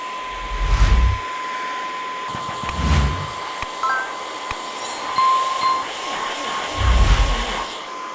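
An Elenat Tesla handheld car vacuum cleaner runs in standard mode, its close, steady high-pitched motor whine continuing throughout, broken by several low thumps from handling.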